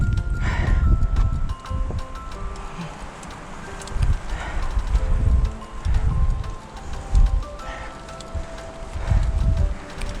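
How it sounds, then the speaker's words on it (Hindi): Gusty wind blowing through trees roars in repeated surges, a steady rushing hiss with rustling, swelling and easing every second or two, no voices. "ये है हवा की आवाज़, पेड़ों से टकराती हुई हवा।"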